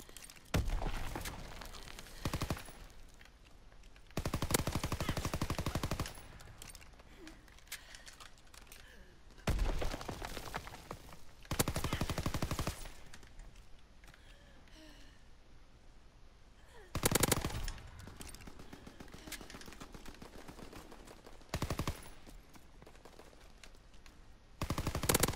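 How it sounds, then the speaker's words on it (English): Machine-gun bursts from a strafing run in a video game, several loud rattling volleys of a few seconds each, spaced apart over a steady background hum. "a strafing run."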